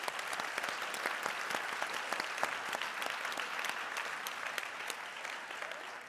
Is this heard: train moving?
no